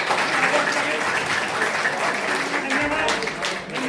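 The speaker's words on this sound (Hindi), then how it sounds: "मैं सभी से कहूंगा एक बार जोरदार तालियां बजा।" An audience at a national awards ceremony in Roorkee, Haridwar, Uttarakhand breaks into sustained, dense applause that carries loudly throughout, with a voice speaking faintly beneath it.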